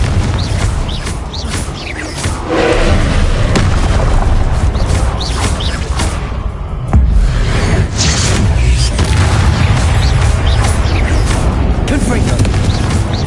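Repeated Confringo fire spell explosions in Hogwarts Legacy, loud booming bursts and crashes recurring through a thick, continuous combat soundscape, with a voice speaking over the din.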